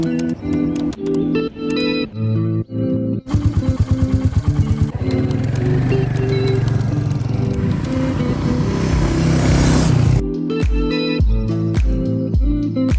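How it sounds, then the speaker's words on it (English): Royal Enfield Meteor motorcycle on country lanes, engine heard alongside a musical backing with plucked notes and a sustained section, the motor fairly loud but partly mixed under the music. "that feeling just of bombing along these little country lanes, pushing the bike to the limit."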